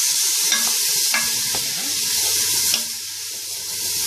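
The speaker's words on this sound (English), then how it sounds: "So just keep your veg moving around in your pan." Vegetables sizzle steadily in a hot pan for a meatball sauce, with a loud continuous frying hiss and a few scraping stirs of a utensil against the pan, no talking.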